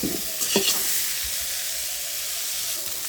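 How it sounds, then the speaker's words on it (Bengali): Cauliflower frying in a pan for a fish-and-cauliflower dish gives a steady, close, bright sizzle, with a few quick stirring clatters near the start before it settles into an even hiss. "আমার কিন্তু কপিটা ভাজা হয়ে গেছে"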